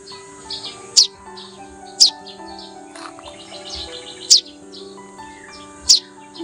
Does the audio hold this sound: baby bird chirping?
yes